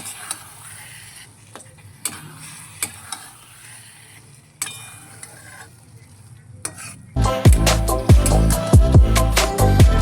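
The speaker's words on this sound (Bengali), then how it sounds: "এবার আমি ভালো করে মিশিয়ে নেব" Cooked dal being stirred into a sizzling spice tadka for egg tadka, soft frying and spoon scrapes at first, then loud rhythmic clanks of the spoon against the pan over a strong sizzle, without speech.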